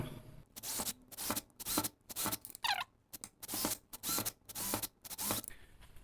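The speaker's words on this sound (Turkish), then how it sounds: "Buraya sırasıyla 4 tane delik deleceğim. Yukarıya da 4'er tane delik deleceğim." A hand drill bores a series of holes for a homemade incubator heater, each burst of drilling loud and close, separated by brief pauses in a steady repeating rhythm.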